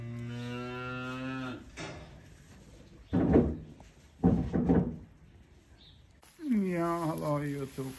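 A bull and cows moo inside a barn, several long, deep lowing calls spaced apart, loud and close, with a few short knocks of barn activity between them.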